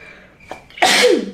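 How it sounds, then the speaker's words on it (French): A single loud sneeze bursts out after a brief sharp inhale, close and abrupt. "Je vais éternuer."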